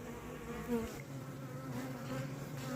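Honey bees buzz steadily and close at a hive during queen introduction in an apiary, a dense, continuous hum with no voices.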